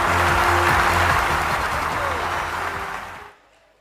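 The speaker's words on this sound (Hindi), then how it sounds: "एक बार जोरदार तालियों के साथ में ये इंद्राणी एक बार जोरदार ताली बजाएंगे" An audience at a Jain Das Lakshan cultural program in Ahmedabad claps loudly in a dense, sustained burst that fades out near the end, with no voices over it.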